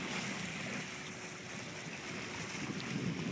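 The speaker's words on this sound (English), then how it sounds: "We're sailing along." Sailboat underway on open sea near Isle au Haut, Maine, a steady wash of water and wind across the hull with low rumbling gusts against the microphone, continuous and fairly close throughout.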